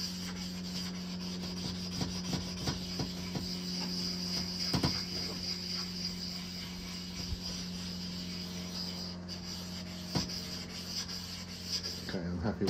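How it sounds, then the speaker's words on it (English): A flat whetstone being worked, with steady rubbing and scraping strokes repeating throughout, fairly close and continuous with a constant hum underneath and no talk. "Make sure the entire stone is dead flat."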